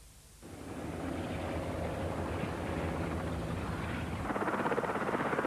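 Helicopter filming a nuclear flask train crash test in 1985 UK, a steady loud rotor and engine drone holding throughout, with a rougher pulsing texture near the end.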